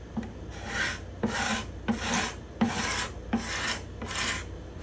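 A cabinet scraper rasps over the spruce top of an instrument along its bindings and purflings, six long strokes in a steady back-and-forth rhythm, close and dry with no talking.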